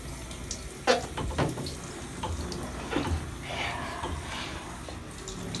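A shower runs in a bathroom, a constant hiss of spraying water with a few louder splashes and bumps near the start.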